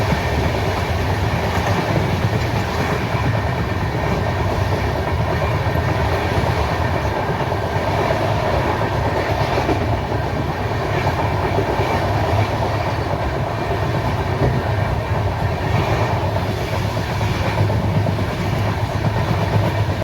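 The Chambal Express rumbles steadily as it pulls into Durgapur station, a continuous loud roar of wheels and carriages with faint clickety-clack throughout, heard from on board.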